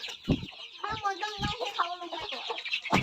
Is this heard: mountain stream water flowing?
no